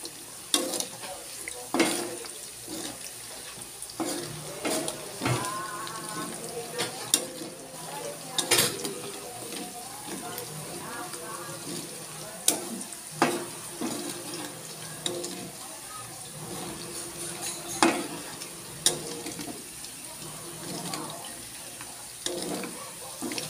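Chicken fat slowly melts into oil in a pan in a small home kitchen, a quiet ongoing sizzle punctuated by irregular clinks and stirring knocks over about twenty seconds.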